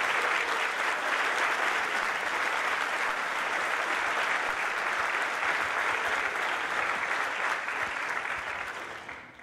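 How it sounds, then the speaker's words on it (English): A large audience at a conference opening session applauds board members, dense sustained clapping that holds steady for several seconds and then fades out at the end. "we're going to ask them to stand up so we can all give them a round of applause"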